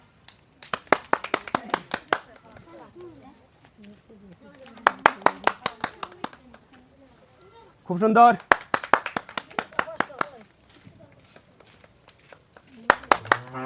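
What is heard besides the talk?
loud applause for game participants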